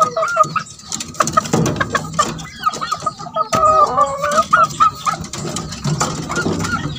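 Several talisain gamecocks, roosters kept in a coop, cluck and call repeatedly nearby, with bursts of bird noise running throughout.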